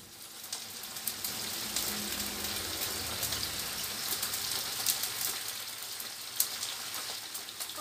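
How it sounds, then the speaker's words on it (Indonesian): Chicken gizzards and quail eggs fry in a pan of hot oil, giving a steady dense crackling sizzle with scattered sharper pops, close and continuous with no talking. "Aku goreng dulu, udah aku siapin minyak panasnya."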